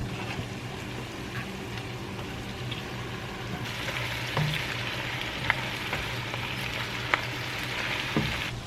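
Squash, onions and ground beef with taco seasoning sizzling together in a pan, a constant close crackle that grows brighter midway as the pan is stirred, with a couple of sharp utensil knocks and no voices.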